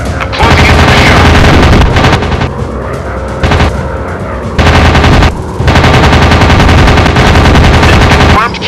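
Rapid machine gun fire from the World War II dogfight game Warplanes WW2 Dogfight rattles loud and continuous in long bursts broken by brief gaps.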